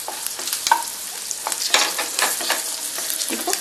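Ginger and garlic frying in a pan for potato kurma, with a steady sizzle and several scraping stirs of a spoon against the pan, close and fairly loud with no talking.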